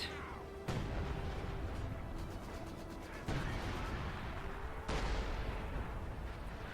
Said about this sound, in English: My ally has to deal with the bombardment